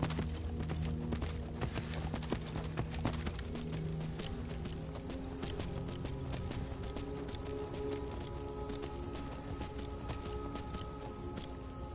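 Steady clip-clop of horse hooves walking at an even pace in the video game Skyrim, close and continuous over a low musical background.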